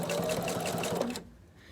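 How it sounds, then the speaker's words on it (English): A home sewing machine runs a steady rapid rhythmic stitch along a fabric coaster seam for about a second, close and clear, then stops abruptly into quiet. "So we're going to sew this at 1/2 inch seam allowance."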